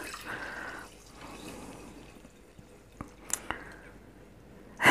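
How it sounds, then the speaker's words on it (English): A pint of milk poured for rice pudding made in an air fryer: a faint, soft liquid pour near the start, then a few small drips and clinks in a quiet kitchen. "So then we put a pint of milk in."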